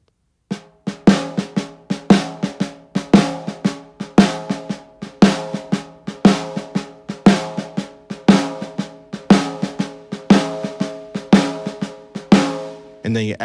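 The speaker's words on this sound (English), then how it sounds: "in the jazz shuffle, you must have control in your left hands to be able to play the ghost notes" Drums play a steady swung jazz shuffle, with accented hits on a repeating pattern and softer left-hand ghost notes tucked between them, close and clear throughout.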